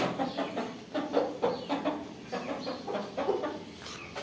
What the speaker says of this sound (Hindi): और ये वाली मुर्गी थी, इसने कल पहला अंडा दिया है।